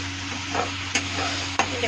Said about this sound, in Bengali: আমি ভালো করে ভাজা ভাজা করবো।